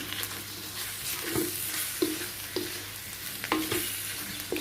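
Mackerel khua kling curry paste is stir-fried fairly dry in a wok. A constant close sizzle runs underneath, and a spatula scrapes and knocks against the pan every second or so.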